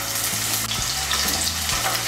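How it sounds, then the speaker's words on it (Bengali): Potatoes fry in refined white oil in a kadai with a loud, continuous, close-up sizzle and a faint low hum underneath, no voices. "এর মধ্যে আমি প্রথমে আলুগুলো ভেজে নেব।"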